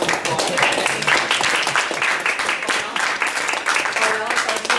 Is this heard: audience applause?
yes